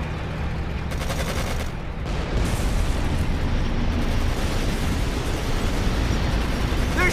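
Battle of the Bulge combat in the World War II strategy game Codename Panzers: Phase One, a dense, loud wall of rattling gunfire and rumbling explosions that keeps going steadily throughout, with no voices.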